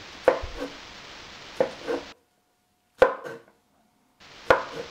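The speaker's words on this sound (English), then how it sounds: "I like to chop them into small pieces" A knife chops shaggy mane mushrooms into small pieces on a board, with four separate bursts of crisp, close cuts and quiet pauses between them. No one speaks.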